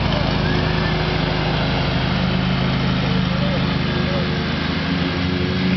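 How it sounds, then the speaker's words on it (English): A tractor engine idles steadily in a backyard, a constant low droning hum held at an even, fairly loud level, with a voice heard faintly over it. "He races a tractor."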